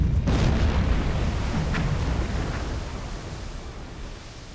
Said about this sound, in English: Torpedo impact.